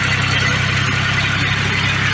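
A tractor engine idling near a sawmill at the end of a day of cutting cedar, a loud, steady low-pitched chug running continuously with no talking over it.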